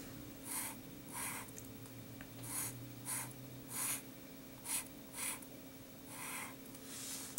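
A marker squeaks across a whiteboard while a graph is drawn, in short bursts of strokes with brief gaps, over a low steady room hum.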